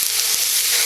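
Ground beef browning in a pan gives off a steady, loud sizzle and hiss, with a couple of faint clinks, heard alone at close range.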